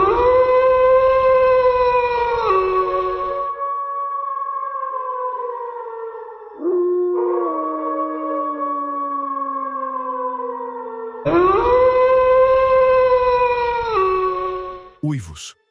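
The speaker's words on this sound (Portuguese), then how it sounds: "Uivos. Muitos. Não eram uivos comuns." Many long, wavering howls, like a pack of dogs, rise and fall in layered chorus, loud and close, with a brief break in the middle before the full chorus swells again and then stops abruptly.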